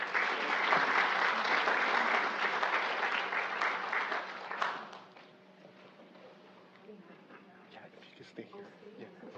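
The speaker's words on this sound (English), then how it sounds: "So if we can give another round of applause to our presenters." Conference audience applauding the presenters at a Pacific Islander health gathering: steady, full clapping for about five seconds, then tapering off to a quiet room with scattered faint sounds.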